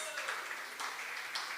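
An audience applauds guest speakers at a Commonwealth Games Windrush event, a steady, fairly distant wash of clapping that stays even throughout.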